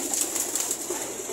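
Blue bar breeder pigeons cooing softly in a loft, a steady murmur of low repeated coos close by with no one talking.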